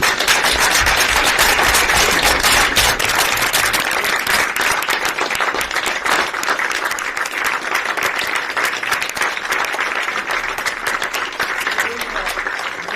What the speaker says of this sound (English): please join us in a round of applause for this outstanding team